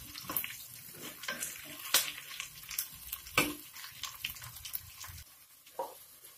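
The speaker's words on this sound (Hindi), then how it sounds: "अब मैं भिंडियों को फ्राई कर लूंगी, फ्लेम मैंने मीडियम कर दिया है।" Okra frying in a pan over a medium flame, with a steady soft sizzle under repeated scraping and stirring clicks of a spatula, close by and moderately loud.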